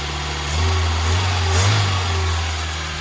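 Mk2 VW Golf barn find with its engine running just after starting, a steady close idle with a low droning hum that swells slightly in pitch and loudness.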